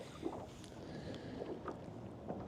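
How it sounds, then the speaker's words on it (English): Wind gusting across an open lake in early spring while fishing from a boat, a steady low rumble of buffeting microphone noise with water lapping against the hull, no voices. "This time of year, the wind's gonna blow."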